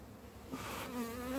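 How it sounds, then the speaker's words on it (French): Honeybees from a hive colony buzz close by with a steady drone, and individual bees whine past at shifting pitches. There is no talk. "il y a un peu beaucoup d'abeilles"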